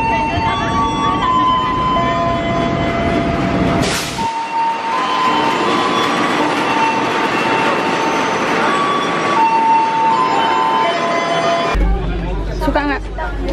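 Steady rumble and hum of the Sancaka economy-class passenger train at a station, with a crowd murmuring and people talking throughout; a brief whoosh near the start and clatter near the end.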